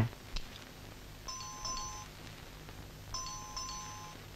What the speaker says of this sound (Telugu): calling bell వినపడలేదా